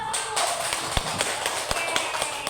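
Parents and guests clap at a primary school positive-discipline outreach event, a dense run of fairly close hand claps lasting a couple of seconds with a few louder taps standing out.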